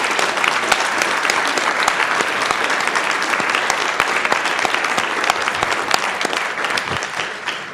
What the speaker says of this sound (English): join together one more time to give everyone a fantastically big round of applause